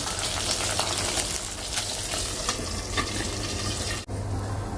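Fish frying in a pan produces a loud, steady hiss and crackle close by, continuous with a low background hum and a brief dip near the end.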